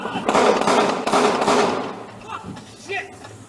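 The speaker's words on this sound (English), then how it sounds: "shots are fired" Gunfire in a police shootout after a stolen-vehicle chase in Dallas: a fast volley of loud, sharp cracking shots, then a few scattered pops, with voices nearby.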